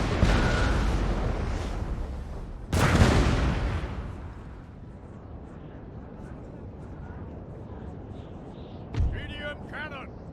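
Artillery cannon fire booms in the video game Napoleon: Total War, one big loud blast early followed by a fainter thud later, with rumbling battle noise and someone talking over it.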